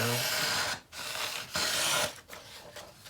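A knife edge sharpened on a rock and slicing through paper, giving a few dry, rasping strokes separated by brief pauses, close and moderately loud.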